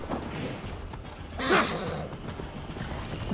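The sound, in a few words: horse galloping in a video game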